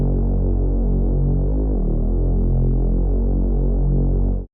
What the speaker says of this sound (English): together that just gives you a really full sounding Reese sub bass